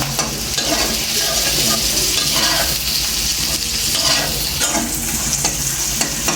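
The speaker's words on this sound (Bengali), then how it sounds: "এখনও পেঁয়াজ আর মরিচটা ভাজা হয় নাই" Onion and green chili fry in a pan for a koi fish and tomato curry, giving a steady, loud sizzle with stirring scrapes and clinks throughout.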